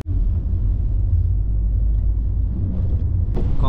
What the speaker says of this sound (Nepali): बाहिर पानी परेको छ गाडीभित्र बसेर हिँड्न